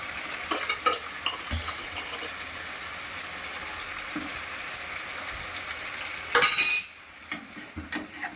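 A spoon stirs chicken masala in a hot pan, with scraping and clattering over a steady sizzle, closer bursts of stirring, and a louder scrape near the end.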